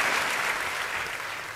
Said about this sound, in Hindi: आप दोनों हाथ उठाकर जोरदार तालियों के साथ संपत जी का स्वागत करें।